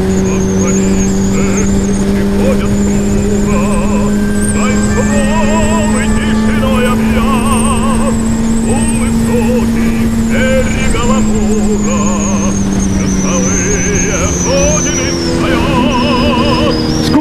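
A motorcycle engine drones at a steady, loud, near hum while the bike is ridden, with slight rises and falls in pitch, under someone talking continuously.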